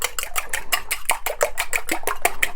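An egg being beaten with a utensil in a separate bowl, a quick steady run of bright clinks against the bowl's side, about five strokes per second, close and fairly loud, no voices.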